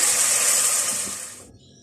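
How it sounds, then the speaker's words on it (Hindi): Water poured into a hot frying pan of sizzling ginger paste gives a loud, steady hiss of steam for about a second and a half, then cuts off abruptly, leaving near silence. "ज़रा सा भूनने के बाद इसमें 1 गिलास पानी डालेंगे।"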